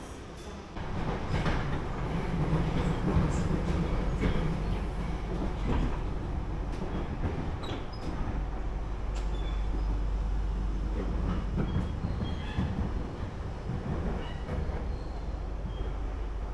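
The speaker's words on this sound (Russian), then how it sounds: "по той стороне едет поезд" A train rolling past near a station in Beijing, a steady low rumble with faint rhythmic rail clatter holding throughout, close and continuous with no talking.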